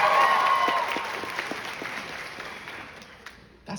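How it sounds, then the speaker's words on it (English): Audience applause that starts fairly full, then thins to scattered claps and fades out. "Round of applause for this man."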